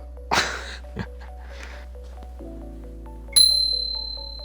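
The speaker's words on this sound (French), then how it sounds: "regarde la cloche" A single clear bell strike rings out with a bright, lingering metallic tone, preceded by a few soft clicks and taps.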